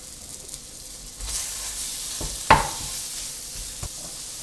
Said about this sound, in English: I've just put in the špek first because it's quite fatty, just to get some of that fat into the pan.